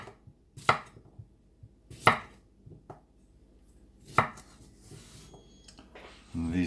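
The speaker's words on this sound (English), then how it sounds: "So I'll chop them all up in preparation" A knife chops potatoes on a board in a home kitchen, with sharp, distinct strikes spaced about every second or two amid quieter cutting and handling noise, followed by a burst of clattering at the end.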